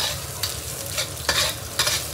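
Fatty pork belly stir-fried in a wok over lowered heat to render its oil: a steady crackling sizzle broken by three sharp spatula scrapes against the pan.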